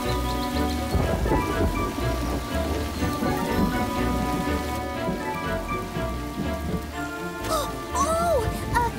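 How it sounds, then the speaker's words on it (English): A storm pours steady rain, with thunder rumbling low beneath the continuous hiss of the downpour throughout, mixed with faint tonal background sound and no clear talk. "I've seen worse storms than this"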